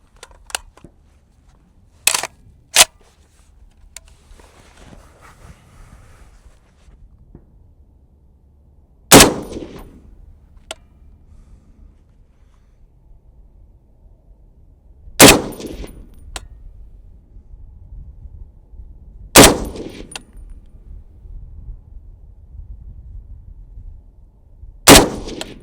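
An FN SCAR 17 rifle fires 168 grain Spirit Gold Dot ammunition at a target: about seven loud, sharp reports spaced irregularly, with a close pair early on, then single shots several seconds apart, and no talking between them.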